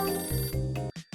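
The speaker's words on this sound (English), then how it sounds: "The phone's ringing." A telephone rings in the video game Hotel Dusk: Room 215, a bright electronic trill heard alone, one burst followed by a short break and another brief ring.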